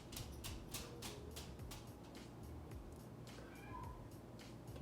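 A cat meows repeatedly in short calls, somewhat distant, over a steady background hum.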